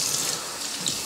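Hot water runs steadily from a tap into a Vitamix 5200 64 oz blender container holding leftover ice, a close, loud, continuous splashing hiss.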